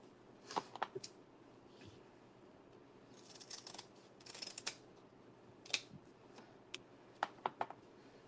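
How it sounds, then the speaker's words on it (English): Heavy duty scissors slicing through thick burlap webbing, giving a series of short, crisp snips and crunches in scattered bursts, close up and alone with no talking. "I use my heavy duty scissors for this because the burlap webbing is really thick"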